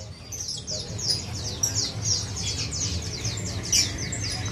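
Caged birds chirp and whistle at a bird market, including a Sumatran cucak hijau, with repeated bright, quick calls over a low murmur of background hum and market noise.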